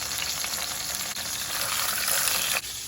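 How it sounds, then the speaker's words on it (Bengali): Fish pieces frying hard in a pan, a loud, continuous crackling sizzle that fills the whole stretch with no pauses and no talking. "আমি বাঁকাগুলোই আগে ভেজে নিচ্ছি মাছের"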